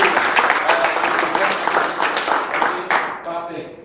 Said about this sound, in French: Est-ce qu'on peut applaudir Madame Cathy, s'il vous plaît?